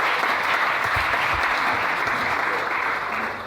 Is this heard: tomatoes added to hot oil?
no